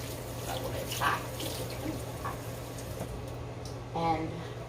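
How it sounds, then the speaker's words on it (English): Hot tap water runs steadily into a sink while hands are washed, a continuous hiss with a couple of brief splashy surges, and a low hum underneath. "So I'm washing my hands."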